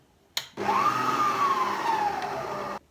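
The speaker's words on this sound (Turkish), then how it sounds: "1 su bardağı süt düşük ayara getirip yavaş yavaş çırpacağım." An electric hand mixer on low whisks milk into cake batter, starting after a short click and running as a steady close whirring hum for about two seconds before cutting off.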